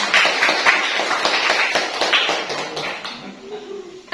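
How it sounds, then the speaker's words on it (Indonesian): A classroom of students applauding a classmate, a burst of close, rapid, uneven clapping that tapers off after about three seconds into quieter room sound. "Tepuk tangan dulu untuk McLevan."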